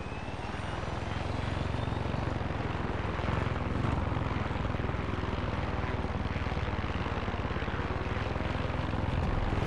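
Helicopter flying in the Far Cry 6 video game, a steady, loud rotor and engine drone that holds constant throughout with no talk over it.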